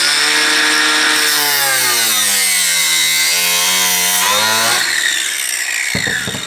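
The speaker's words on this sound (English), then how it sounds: "And then we would proceed to cut it with our grinder." A grinder cuts through cooling system tubing on a 2000HP drag truck build, a loud, close, high whine that sags in pitch as the disc bites, then rises again with scraping at the end.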